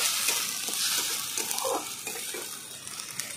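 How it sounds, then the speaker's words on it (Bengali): Spice paste with garlic and two chopped tomatoes fries in a pan for a fish curry, giving a steady close sizzle with soft stirring scrapes and no talk. "মশলাটা ভালো করে কষিয়ে নেব। সঙ্গে দিয়ে দেবো টমেটো কুচি করা দুটো"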